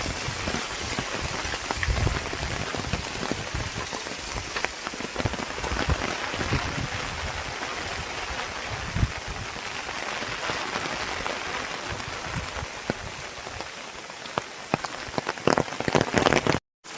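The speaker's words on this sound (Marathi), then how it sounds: "मित्रांनो पाऊस आला म्हणून मी सुद्धा बाहेर पडलो" Steady rain falling outdoors in a village, a dense, even hiss of drops hitting surfaces that carries on without a break for the whole stretch, with no talk.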